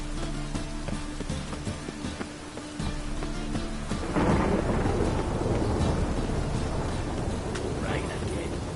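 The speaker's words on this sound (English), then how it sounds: "Rain again." Thunder rolls in over steady rain during a fantasy game scene, a tonal musical passage giving way about halfway through to a loud, dense wash of storm noise that fills the rest of the clip.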